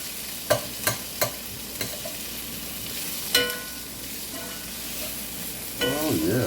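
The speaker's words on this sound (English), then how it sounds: "I'm gonna stir these around." Pasta stirred in olive oil in a frying pan gives off a steady, gentle sizzle. A few sharp utensil clacks against the pan stand out near the start and again later.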